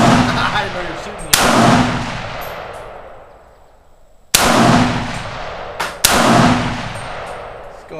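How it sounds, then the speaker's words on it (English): Three loud, sharp gunshots crack at an outdoor shooting range with jugs as targets, each followed by a long ringing decay, spaced a few seconds apart. "I didn't know you were shooting."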